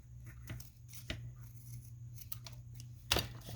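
Scissors snip through a paper journal card in a few sharp, separate cuts over a low steady hum, with one louder snip near the end.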